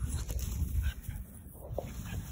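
A five-week-old American Bully puppy gives faint, soft whimpers among low rumbling handling noise and background hiss, close but quiet.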